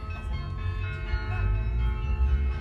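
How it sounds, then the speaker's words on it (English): Bells in the tower of a Gothic cathedral in a Dutch town play an Avicii song, a sustained chiming melody with layered ringing tones over a low rumbling background, fairly loud and continuous. "Avicii songs ring out from this Dutch town's bell tower as a tribute."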